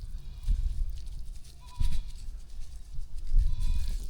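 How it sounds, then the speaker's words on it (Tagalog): Goats bleat a few times, close by, over a steady patter of rain and low outdoor noise. "Maingin yung kambing kasi umuulan na."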